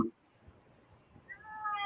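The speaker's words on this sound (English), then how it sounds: "Oh hey, my cat just came in." A house cat that has just walked into the room lets out a soft, fairly faint meow near the end, after a short stretch of quiet room noise.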